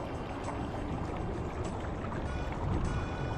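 A Newport Vessels trolling motor drives a boat at speed four on Tampa Bay, giving a steady, loud rush of water and motor noise with a slight swell near the end.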